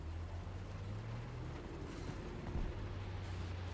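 Faint, steady low rumble of a tank engine in War Thunder, the M22 Locust light tank, droning continuously with slight shifts in pitch and a brief thump near the end.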